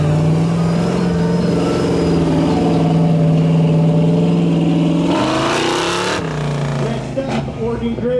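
A drag racing truck with a 460 engine, a 150-shot nitrous kit, a built C6 automatic and a Northwest Fab Titan box idles loudly at a Mountain Mafia tire tow event. It revs up sharply, then drops back, with a voice talking over it.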